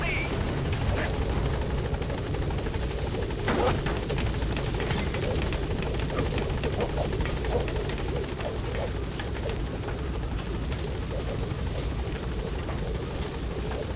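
Helicopter rotor drone from a B-Quad chopper in Metal Gear Solid V: The Phantom Pain, a steady loud thrumming wash that holds throughout, with radio voices talking over it.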